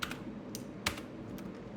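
Typing on a new computer keyboard: scattered soft key clicks at an uneven pace, with one sharper keystroke, close and quiet, with no talk.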